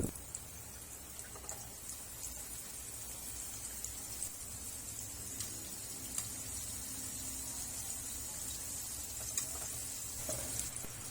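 Chicken wings fry in hot oil over medium heat, a steady dense sizzle with scattered crackles and pops that runs evenly throughout.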